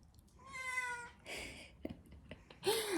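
A house cat meows from upstairs, one long harmonic call followed by a shorter second meow and a rising final cry, fairly faint and distant against a quiet room.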